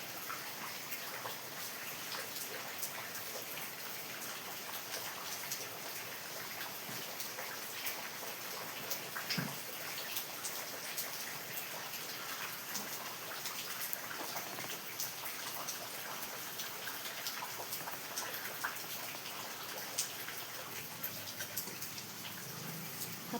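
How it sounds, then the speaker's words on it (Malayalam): Steady rain falls on an open yard, a dense continuous hiss of drops with no pauses, fairly soft and even throughout, with no voices. "മുറ്റത്ത് അതുകൊണ്ട് ഞാൻ പൂടാത്ത ഈ മഴ ഇങ്ങനെ പെയ്തുകൊണ്ടിരിക്കുന്നതുകൊണ്ട് മുറ്റത്ത് പോയിട്ട് ഇടാൻ"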